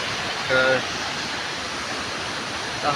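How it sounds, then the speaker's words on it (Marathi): A small waterfall at Chohandi spills down nearby with a steady, even rush of falling water, filling the whole stretch without pause. A couple of faint, brief chirps rise above it. "इकडं छोटासा असा इकडून धबधबा इकडून पण वाहत आहे"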